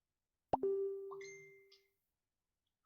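A mobile phone notification sounds once: a sharp plop followed by a ringing tone that slowly fades over about a second, near and clear in an otherwise quiet room.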